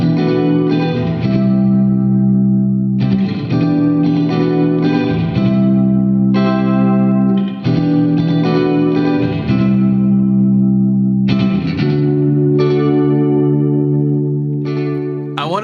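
A Reverb Warhawk 390 electric guitar strums chord after chord through a short delay without feedback, vibrato-like modulation and heavy reverb, each shimmering strum ringing out loud and full before the next.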